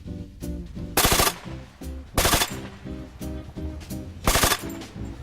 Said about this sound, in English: And then you'd shoot 2 to 3 round bursts, just like I did.